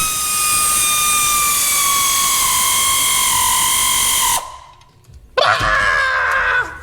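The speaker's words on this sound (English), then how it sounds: "Ooh, air tools are fun, but they're noisy." A pneumatic air tool whines loudly and steadily for about four seconds while tightening supercharger bolts on a Dodge Dakota R/T, stops briefly, then fires again in a rougher, harsher burst.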